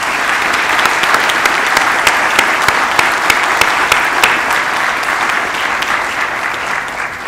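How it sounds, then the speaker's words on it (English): Steady, full applause from a conference keynote audience on a university campus in Maine, dense clapping that holds loud and even throughout with a few sharper individual claps standing out. "So I'd like to ask for a round of applause to thank our various partners."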